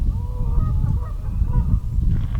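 Geese honk repeatedly across a lake at Ridenour Lake Park in Nitro, West Virginia, during mating season, the calls steady and moderately close over a constant outdoor rumble, with no one speaking.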